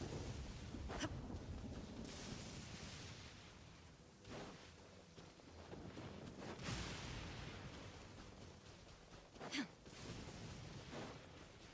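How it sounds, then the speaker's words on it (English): Thunder from a lightning storm in the video game Genshin Impact, several loud cracking bursts spaced a few seconds apart over a rumbling, rain-like background. "Curse that stupid lightning."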